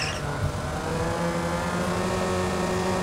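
A synthesized car engine from the Krotos Igniter plugin, set to a lowered load, holds a steady droning idle with a smooth, even hum throughout, heard alone.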